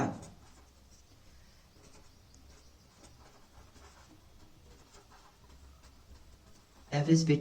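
A pen writing by hand on paper or a board while working an operating-systems scheduling problem, a faint continuous scratching that lasts several seconds before a louder burst at the end.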